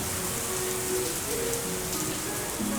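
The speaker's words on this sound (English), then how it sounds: "I love it when it rains." Steady rain falls on a surface as a continuous, even hiss, fairly loud and close, with no voices.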